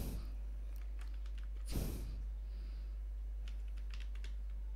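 Light key taps on a computer keyboard, a few scattered clicks close by over a low steady hum, with one louder breathy burst early on and no speech.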